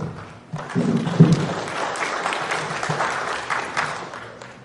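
Audience applause at a panel session of a 2013 conference, starting after a brief quiet moment and swelling into steady, dense clapping from a seated crowd that carries on to the end.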